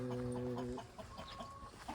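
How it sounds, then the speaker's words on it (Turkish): Chickens cluck softly nearby in a village house garden, a few short clucks and a drawn-out call, with quiet outdoor background. "Tavuklar var."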